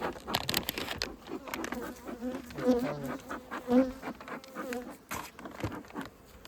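Honey bees buzzing steadily around hives during a spring mite treatment, a close, dense drone with occasional louder passes near the listener and light rustling handling noises.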